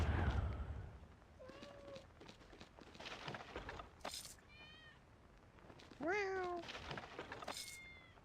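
Cats meowing in the video game Icewind Dale 2: several clear rising and falling meows sound close by, one drawn out and loud near the end, among soft footsteps and scattered game effects.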